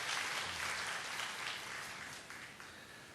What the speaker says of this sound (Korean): 다시 한번 박수로 축하하고 환영해 주시겠습니다.